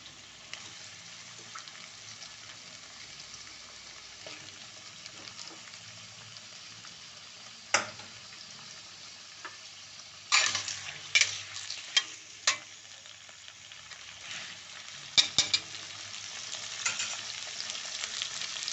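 Cabbage and potatoes frying in a pan, a steady soft sizzle with scattered louder clicks and scrapes from stirring, no talking.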